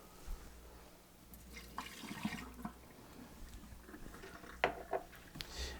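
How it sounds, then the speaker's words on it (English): Water poured out of a mug for a hot buttered rum cocktail, a faint splash and trickle at moderate distance, with no one talking. "So we're going to dump this water."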